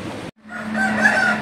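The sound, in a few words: rooster crowing, roosters brought from Coimbatore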